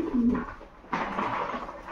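Breeding pigeons cooing indoors, a low soft coo followed by a second, brighter call, fairly faint and close.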